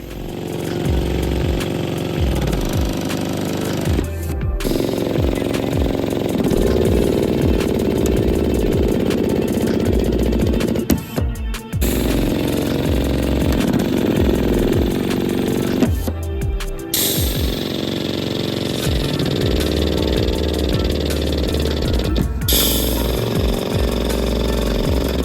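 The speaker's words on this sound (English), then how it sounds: "Time to install the flow-formed rivets." A power tool whirs loudly and steadily as flow-formed rivets are driven into a Tesla Model 3 body side aperture, with a few brief pauses between fastenings.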